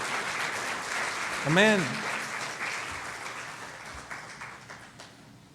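A church congregation claps in applause, a broad steady wash of many hands at moderate distance; a single voice calls out briefly near the middle, and the clapping gradually thins toward the end.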